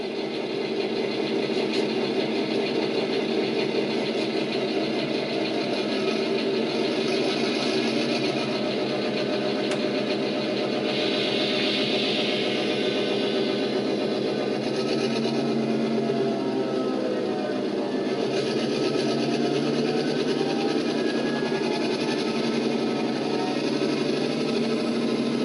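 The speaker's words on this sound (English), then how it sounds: "if I throttle this up a little bit, we should get our locomotive to move" A model locomotive's motor throttles up steadily, a continuous mechanical whir and hum running unbroken and moderately loud throughout.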